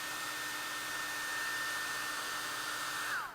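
A hair dryer blows steadily at close range with a ping pong ball floating above it, a constant airy whir with a faint high whine, cutting off abruptly near the end.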